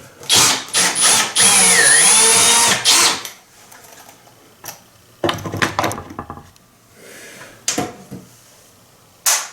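A power nut driver whirs close by as it backs a screw out of a bathroom exhaust fan. A loud whine with a falling pitch runs for about three seconds, then shorter bursts of the driver follow with quiet gaps between them.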